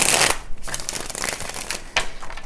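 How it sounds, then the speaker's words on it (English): Tarot cards shuffled by hand, a brisk papery riffle at the start, then softer ruffling bursts and a second riffle near the end, close and fairly loud with no speech. "I'm like trying to shuffle these cards"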